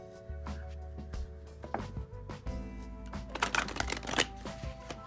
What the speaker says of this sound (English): All right, so let me shuffle the cards.